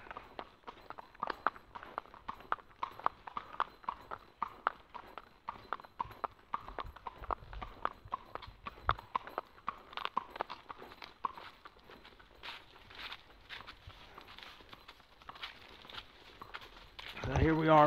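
Horse hooves clip-clopping at a steady walking rhythm along a forest trail in Uwharrie National Forest, close and fairly quiet, with a person talking over the hoofbeats.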